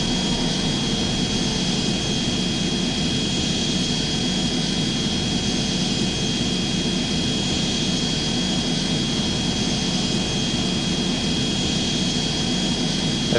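Steady airplane engine drone on final approach in the Airplane Flight Simulator Evo game on PS5, a continuous loud broadband roar with a high whine, unchanging throughout and with no voices.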